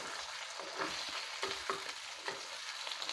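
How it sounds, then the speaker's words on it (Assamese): Fish fries in a small kadai, a close, steady oily sizzle broken by a few sharp crackles and scraping stirs, with no talking. "এইটো মই ফ্ৰাই কৰিবৰ কাৰণে বনাইছোঁ।"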